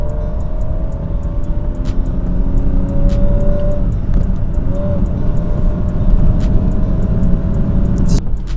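BMW E36 320i with a six-cylinder engine, heard from inside while driving: a loud, steady low engine drone and road rumble throughout, with occasional faint clicks and no voices.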